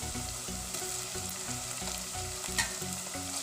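Tomatoes fry with onions in a pan for chicken dum biryani, producing a loud, continuous hissing sizzle with faint stirring and a low hum underneath, close and steady throughout, with no one talking.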